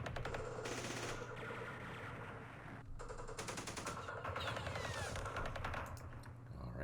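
Enemy gunfire in the Vietnam war game Campaign Series Vietnam, dense machine-gun bursts and rapid rattling volleys continuing for several seconds at steady loudness.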